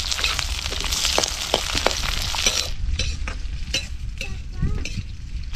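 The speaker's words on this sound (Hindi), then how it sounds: "बस नरम होने तक इसको भुनना है।" Chopped onions frying in a pan for okra do pyaza (bhindi), a steady loud sizzle with repeated scraping strokes of a spatula stirring them, with no voices.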